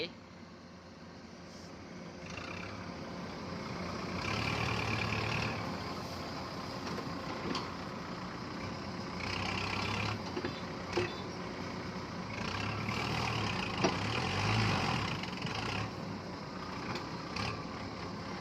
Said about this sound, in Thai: ไอ้นุ่มรถไถ